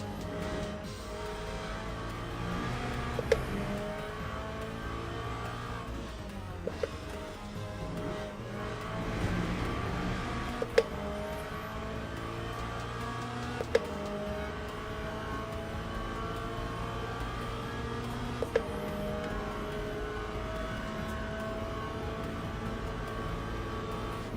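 A Corvette race car engine in a sim racing game drones steadily, with gear changes every few seconds shown by sharp clicks and rising pitch sweeps, loud and unbroken with no talk.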